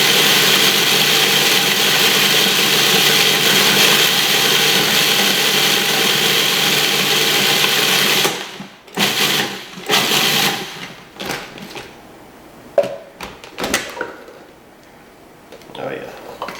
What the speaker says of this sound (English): You can even walk away as long as you're not concerned about your food processor bouncing a lot.